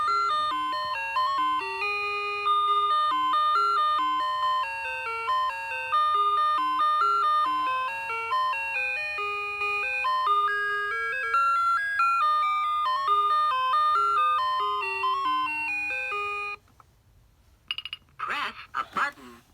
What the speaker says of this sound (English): Next song is called Camptown Races.